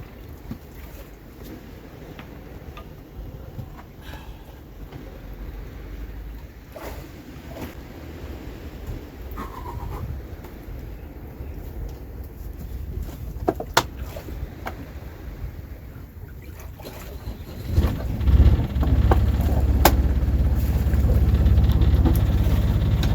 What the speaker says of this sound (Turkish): Rolantisi çok düşük. Rolanti de çok sarsıntılı.